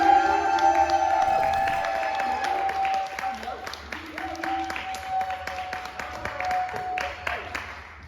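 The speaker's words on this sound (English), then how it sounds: "Can we have a big round of applause" Scattered clapping from a crowd at a spoken word poetry event fills the space, uneven and moderately loud, with a sustained tonal hum running underneath.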